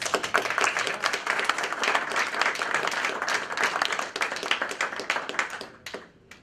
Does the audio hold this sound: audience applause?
yes